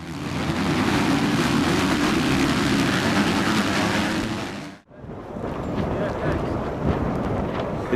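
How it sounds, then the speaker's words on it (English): Strong wind roars across the microphone in a constant heavy rush, briefly dropping out for a moment before gusting back just as hard. "It's so windy here"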